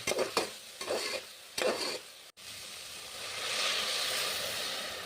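Mixed vegetables and capsicum frying in a tempering for Bisibelebath: a few quick spoon-stirring scrapes close up, then a steady, rising hiss of sizzling oil, with no voices.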